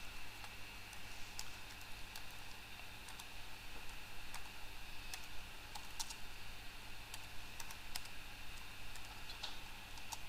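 Soft typing on a computer keyboard while entering text in GIMP: scattered light key clicks, quiet and close, over a faint steady background hum with no talking.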